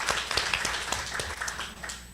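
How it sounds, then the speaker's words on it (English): Congregation clapping at a Sunday church service, a dense spread of many hands applauding steadily at moderate volume, with no talk over it. "Let's give him a round of applause again, you guys."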